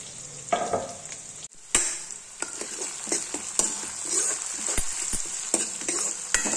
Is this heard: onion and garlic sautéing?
yes